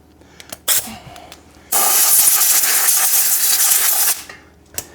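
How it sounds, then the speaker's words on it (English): Compressed air blasts dirt off a front ball joint on a 2006 Pontiac Torrent, one loud sustained hiss of about two and a half seconds, set between brief taps and quiet workshop sounds. "We'll blow the dirt away"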